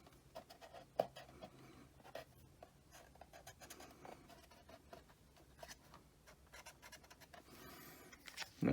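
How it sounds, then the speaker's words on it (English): Pen or pencil drawing a loop outline on a craft piece for solar house numbers, a soft, steady scratching that runs on and off quietly alone. "Put this guy up here, and then just draw the loop here, the top loop piece."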